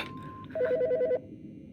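Phone ringing in Autopsy Simulator, a short electronic ring burst after a brief tone, clear and close, followed by quiet room ambience.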